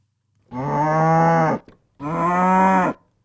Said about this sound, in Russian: И, например, мычание коровы.